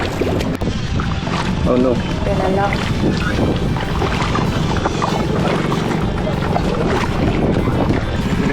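A motorboat tows a passenger boat along the river at Pagsanjan, Laguna, Philippines, giving a steady loud rumble mixed with wind buffeting and rushing water, while people briefly talk and exclaim over it.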